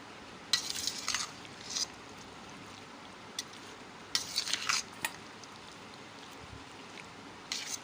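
Chana chaat ingredients, chickpeas with potato, being mixed: faint, intermittent scraping and clinking of a utensil in a few short bursts separated by quiet stretches.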